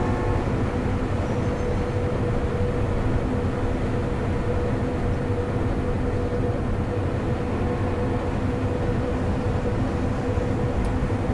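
Train running in Microsoft Train Simulator, driven as the Ganga Kaveri Express: a steady, continuous rumble of engine and wheels on rails, with low droning tones, holding an even level throughout without talk.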